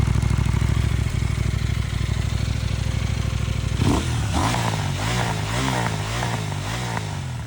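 A KTM Duke 990 motorcycle engine with an aftermarket Remus exhaust idles with a loud, steady rumble, then revs and climbs through throttle blips with a raspy, throaty exhaust note, close up.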